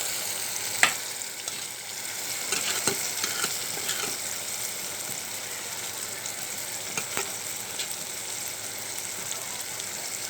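Washed kechki fish fry in a pan, a continuous moderate sizzle with scattered sharp crackles and pops throughout, no voices.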